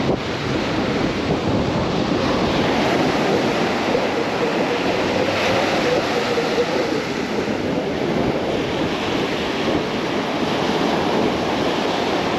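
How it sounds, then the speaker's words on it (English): Steady wind gusting across open water, a dense continuous roar with wind buffeting the microphone, loud and unbroken throughout with no voices. "Wind's picked up a little bit more."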